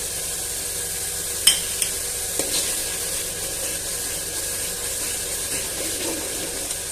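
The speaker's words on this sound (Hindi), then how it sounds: "गरम मसाला डाल के हमने तकरीबन 2 मिनट इसकी भुनाई की है।" Curry masala for an egg and chickpea curry fries in a pot after garam masala goes in, a steady close hiss of sizzling oil broken by a few sharp spoon taps early on.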